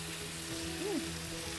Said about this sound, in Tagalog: Halo-haloin ko lang ng konti or ibiling para masangkot siya siyang mabuti.